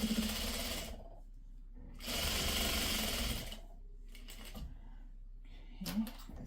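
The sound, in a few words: sewing machine stitching pre-cut quilt fabric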